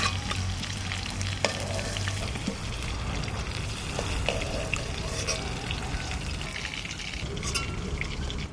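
Small hilsa fish frying in hot oil, a continuous crackling sizzle with occasional stirring scrapes, close and steady throughout.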